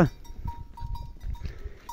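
Goats at a village goat farm of about 125 animals move about with soft, scattered sounds and faint calls, while a small bell clinks repeatedly and rhythmically nearby.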